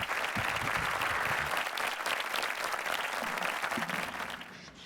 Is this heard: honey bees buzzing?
no